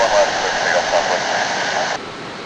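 A jet airliner takes off from runway 31 left at Dallas Love Field, giving a loud, steady engine roar and rush that holds for a couple of seconds before dropping slightly.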